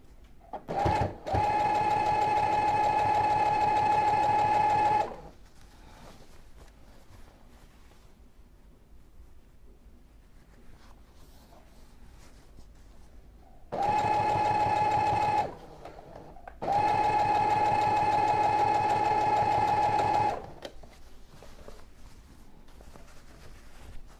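A sewing machine runs in loud, steady whirring bursts while stitching a pillowcase dress for a baby up to three months old, with a pause and a brief reverse run to reinforce before stitching resumes.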